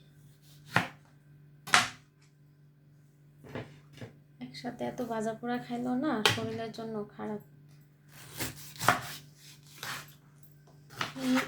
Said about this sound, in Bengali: ফলগুলো কাইটা রাখি